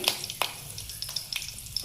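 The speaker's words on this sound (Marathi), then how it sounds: "आता आपण फोडणी घालून घेऊया" Spices and fresh curry leaves crackle and sizzle in hot oil for tempering, with sharp pops scattered over a steady frying hiss.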